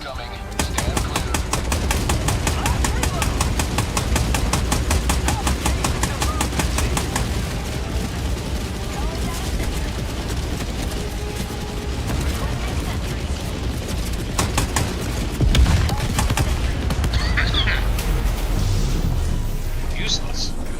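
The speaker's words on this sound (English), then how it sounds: "Orbital barrage incoming." A Helldivers orbital barrage pounds the battlefield in a dense, continuous roll of rapid blasts and gunfire-like cracks, loud and sustained for the whole stretch, with a few brief bursts standing out near the end.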